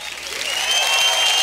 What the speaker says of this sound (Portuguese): coloca aquelas palmas, mas muitas palmas aí na tela, vai.